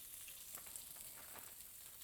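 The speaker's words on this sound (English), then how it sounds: "You can hear that nice sizzle" Seasoned chicken sizzling in a hot non-stick grill pan: a soft, steady hiss of frying with faint crackles, quiet and close, with no talk.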